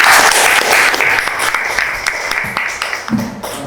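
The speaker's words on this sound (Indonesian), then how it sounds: "tepuk tangan, apresiasi." A class applauds after a school presentation in a classroom: a dense burst of many hands clapping that starts loud and gradually thins and fades over a few seconds.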